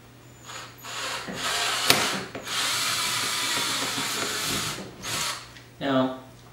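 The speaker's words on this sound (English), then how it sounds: "now we do the part that always scares me to death, and that's to drill these holes." A power drill bores holes in a C7 Corvette Stingray to fit ACS composite Z06-style lower vent ducts, whirring close and loud in a long burst, then two shorter spurts.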